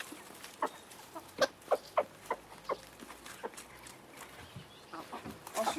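Backyard hens with a pot of kitchen scraps such as rice, potatoes and old salad, a run of sharp pecking-like taps and soft clucks close by, fading into quieter rustling, without speech.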